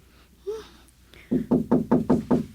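Someone knocks on a door in a drama scene: a quick run of six sharp, evenly spaced raps, close and fairly loud, preceded by a few faint sounds.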